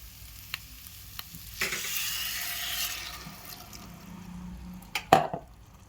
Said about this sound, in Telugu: వాటర్ విడిచినప్పుడు మనం ఏం చేయాలంటే ఒక గ్లాస్ వాటర్ పోసేయాలండి